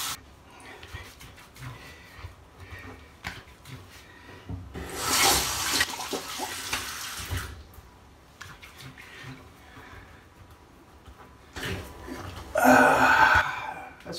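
Water from a tap runs in two bursts during rinsing after a wet shave, a hissing splash that starts and stops, with quieter handling noises between the bursts.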